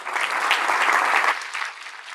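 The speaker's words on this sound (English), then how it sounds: "A big round of applause for all 9 companies" An audience claps for the nine pitching companies at the 2019 ATDC Startup Showcase Fast Pitch, a dense, steady round of applause from a room full of people that eases slightly toward the end.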